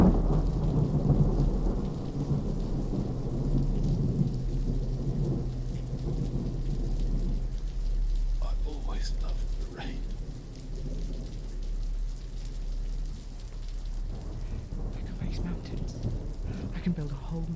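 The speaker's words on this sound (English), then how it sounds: "And now it's raining in my garden" Heavy rain pours steadily on a garden while a deep roll of thunder rumbles through the first half and slowly fades, leaving a continuous hiss of rain and scattered drips.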